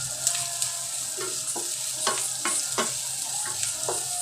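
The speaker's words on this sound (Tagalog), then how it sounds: "Saka lagay na rin natin yung luya, mga kaulam. Sautin lang natin, mga kaulam." Ginger and aromatics sauté in a pan for Filipino chicken halang-halang: a steady, close sizzle broken by repeated sharp scraping strokes of stirring, with no voices.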